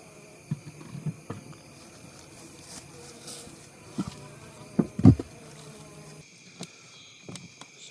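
Honey bees from a new swarm hum faintly and steadily around a colony set in insulated Layens horizontal hives, with a few soft knocks and bumps nearby.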